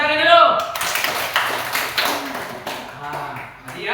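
Hands clap together in a group, a run of sharp claps with scattered taps, heard amid a voice giving instructions.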